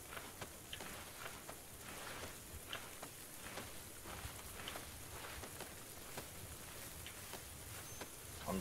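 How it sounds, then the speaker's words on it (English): Rain from the weather system in the video game PUBG falls as a steady, soft hiss with scattered light drop ticks throughout, quiet and even, with no talking over it. "I'm glad they added the fucking weather system back. Yeah, the rain."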